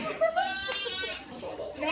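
A few short, wavering bleats from sheep and goats rise and fall over quiet background noise, with no pauses between them.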